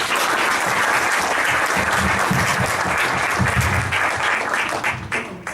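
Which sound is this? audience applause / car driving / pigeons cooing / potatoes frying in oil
audience applause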